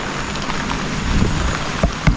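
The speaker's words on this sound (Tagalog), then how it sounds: "magdamag na naman yung ulan" Steady rain falls on a morning outdoors, a continuous wash of patter with a few sharper drops near the end, no voices.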